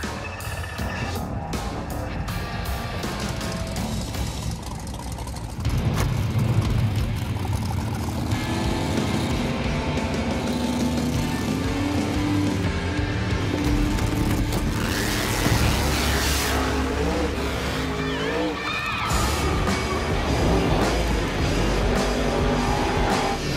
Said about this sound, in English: I hear and feel the car popping in the two-step.